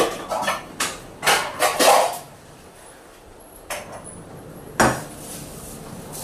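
A cooking pot being taken out and handled, with a run of sharp metallic clanks and knocks close by, clustered in the first two seconds, then a few isolated clunks after a quiet pause.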